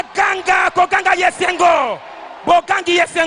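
A church congregation at a Congolese revival seminar shouting loud cries of joy, several overlapping bursts of yelling and whoops in quick succession, with a short lull before the crowd erupts again.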